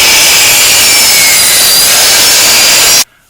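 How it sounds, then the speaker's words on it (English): A chop saw cuts a 45-degree miter through a wooden piece for a sled, a loud high whining cut that holds steady for about three seconds and then stops abruptly into near silence. "We've cut our angle on our chop saw."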